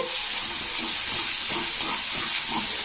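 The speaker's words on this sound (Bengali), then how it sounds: "লবণটা দিয়ে এবারে বাটাটাকে তেলের মধ্যে একটুখানি ভেজে নিতে হবে" Yardlong bean paste fries in hot oil with a steady, close sizzling hiss, faint soft popping and bubbling rising now and then beneath the constant noise.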